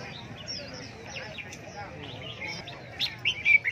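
Red-whiskered bulbuls chirp at a busy bird market, with scattered sharp tweets rising near the end over a low murmur of crowd noise and talking voices.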